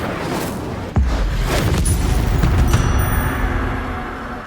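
A fiery spell cast in the wizarding game Hogwarts Legacy, heard as a sudden loud whoosh and boom that then roars and crackles for several seconds before fading slightly.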